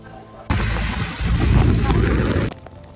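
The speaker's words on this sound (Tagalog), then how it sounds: "Grabe ito, naabutan na kami ng ulan" Heavy rain pours down suddenly during a motorcycle adventure tour in the Cordillera mountains near Bagulin, a dense broadband wash that rises and swells in the middle before stopping abruptly.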